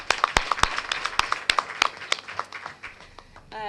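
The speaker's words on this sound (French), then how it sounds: "vous joindre à moi pour applaudir ces partenaires" Scattered hand clapping from an audience at a ceremony for partners of a project in Guinea, sharp uneven claps thinning out over a few seconds.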